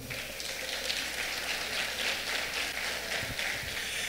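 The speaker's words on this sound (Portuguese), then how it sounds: "Essas foram as palmas mais ridículas que eu já vi na minha vida." Thin, scattered applause from a church congregation, a soft steady patter of hands that holds at an even, moderate level for about four seconds without swelling.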